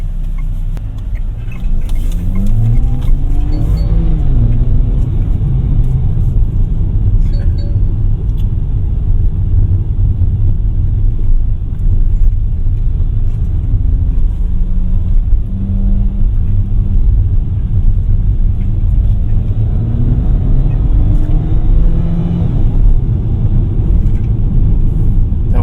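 A GAC GS3 Emzoom with a 1.5-litre turbo engine hums steadily from inside the cabin while driving, with low road rumble and a gentle rise in engine pitch as it accelerates, no talking.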